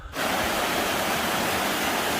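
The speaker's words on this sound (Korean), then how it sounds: "이렇게 그 물이 어, 폭포처럼 물이 내려오는 멋진 곳이 있어서 잠깐 보여드립니다" Water pours down like a small waterfall beside a mountain forest road near Changwon, a steady, loud, close rushing roar that fills the clip after a brief quiet start.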